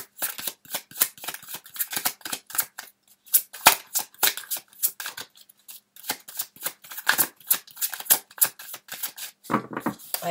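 Tarot cards shuffled and drawn by hand, a dense run of quick crisp snaps and flicks, close and fairly loud, with brief pauses between bursts and no talking.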